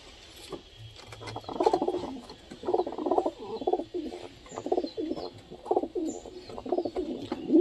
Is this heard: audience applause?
no